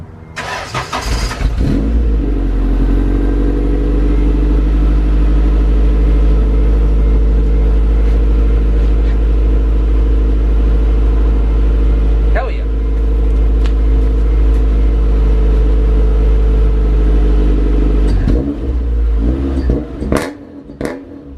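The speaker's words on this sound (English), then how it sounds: "we're gonna hear this car for the first time with the full exhaust system." A project wagon car with a full exhaust system starts and runs, its engine rumbling deep and loud at close range with a steady raspy drone, a brief dip near the middle and a few revs at the end.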